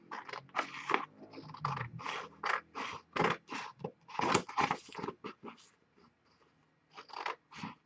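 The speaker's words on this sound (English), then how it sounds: "I'm just going to cut it." Scissors snip through paper in a series of crisp, close cuts, some in quick runs and others spaced apart, with a quiet pause before a final few snips.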